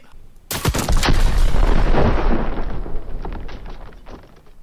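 One loud, close gunshot fires in a Backrooms horror game, followed by a heavy rumbling roar that slowly dies away over several seconds.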